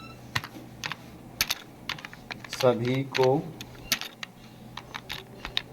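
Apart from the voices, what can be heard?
typing text on a computer keyboard in Photoshop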